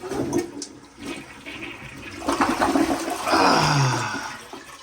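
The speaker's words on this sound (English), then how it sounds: "Flush it." A toilet flushes after being cleared with a plunger, a loud rushing roar of water that swells and swirls down near the bowl, with no talking over it.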